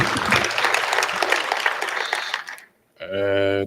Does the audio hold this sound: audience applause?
yes